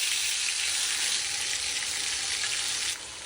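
Garlic and onion fry in hot oil, a dense, even, close-up sizzle that holds steady for about three seconds and then eases slightly, with no talking.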